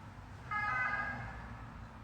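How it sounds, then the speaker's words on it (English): An ambulance siren outside, brief and distorted, rising suddenly then fading away over low traffic rumble, sounding muffled and somewhat distant. "I think that might have been a broken ambulance."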